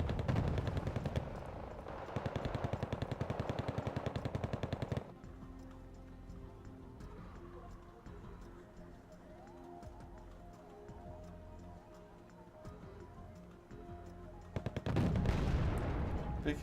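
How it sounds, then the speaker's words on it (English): An F-104 Starfighter strafes in the Wargame: Red Dragon video game, with rapid automatic gunfire bursting in loud rattling volleys at the start and again at the end, a quieter rumbling battle sound in between. "We've got a starfighter doing a strafing run there."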